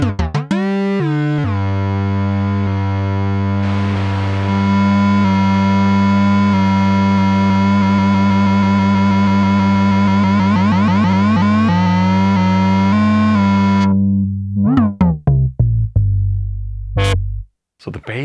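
Malekko Heavy Industries Manta monophonic synthesizer with an SEM chip holds a loud, buzzy, harmonically rich sustained tone with shifting filter sweeps for about fourteen seconds, then breaks into a few short, stabbing notes.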